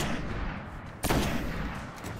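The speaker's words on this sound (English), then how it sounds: "Those headshots with a sniper do so much damage" Sniper rifle shot in the video game Destiny, a single sharp loud blast with a brief booming tail, set against a dense rumbling battle background.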